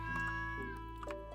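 A cat meowing when petted in the video game Stardew Valley, a short, clear, tonal meow heard alone over a soft steady game-music background.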